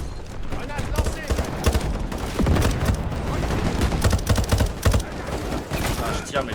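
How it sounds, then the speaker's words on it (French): Dense, loud bursts of rapid gunfire in the Modern Warfare video game, overlapping shots over a steady battlefield din, with a voice talking in French throughout. "je tire mais je sais pas sur qui je tire"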